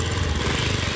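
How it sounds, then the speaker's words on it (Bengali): A motorbike forcing its way through flood water in Kulaura gives a brief, close, rough engine drone that holds steady for a moment. "পানি একটা বাইক খুব কষ্ট যাওয়ার চেষ্টা করে"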